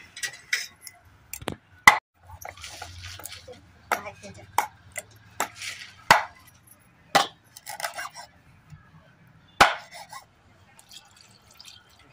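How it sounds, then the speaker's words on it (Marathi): Tol fish being cut up for a curry with a knife on a board: a series of sharp, separate chopping knocks with pauses between them, fairly close, plus a soft low rumble in the background and no talk. "आई चिरून घेते।"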